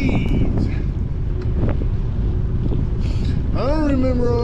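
Strong wind buffeting the microphone during a Sunday ride, a steady loud roar filling the whole clip, with a voice speaking briefly near the end.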